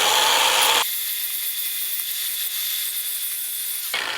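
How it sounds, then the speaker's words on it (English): An angle grinder grinds metal on a part for a JCB 714 dump truck, a loud steady high-pitched whine that runs continuously for a few seconds and then stops, with no talk. "why use a hand file when you can use a grinder?"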